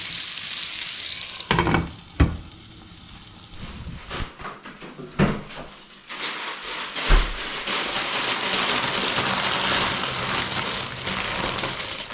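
A pepper steak seasoned with black pepper sears on a grill with a loud, dense sizzle and crackle, broken early on by several sharp knocks and clatters before settling into a steady hiss.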